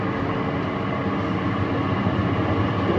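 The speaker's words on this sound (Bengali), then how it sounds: "ট্রেন পুরো অটোমেটিক্যালি চলছে।" A driverless automatic airport train moves along its track with a loud, continuous rumble and rolling hum that holds steady throughout, with no talking.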